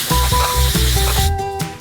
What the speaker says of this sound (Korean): 뜨거운 캐러멜에 직접 질소를 뿌려요.